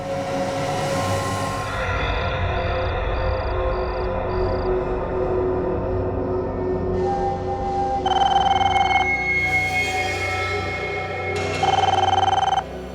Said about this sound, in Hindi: किसका फोन हो सकता है?